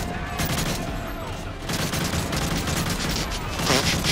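Gunfire in the video game Modern Warfare 3: dense, continuous bursts of shots and explosions, loud and steady throughout, with a voice faintly mixed in beneath the barrage.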